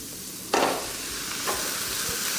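Carrot and cabbage being sautéed over high heat in a pan, a loud, steady sizzle with two bursts as the vegetables are tossed and stirred.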